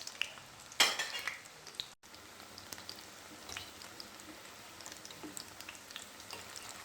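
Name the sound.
shami kebabs frying in a pan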